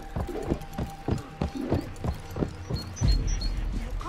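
Camel hooves clip-clopping through the streets of Baghdad in Assassin's Creed Mirage, a steady walking rhythm of soft thuds with faint tack rattles, ending in a louder low rumble.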